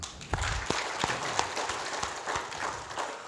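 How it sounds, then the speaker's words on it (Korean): Church congregation clapping in applause, a moderate, somewhat sparse patter of hands with a few sharper individual claps standing out, heard fairly quietly and lasting only a few seconds. "우리 박수로 한번"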